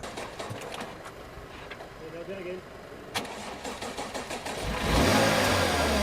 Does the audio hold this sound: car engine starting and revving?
yes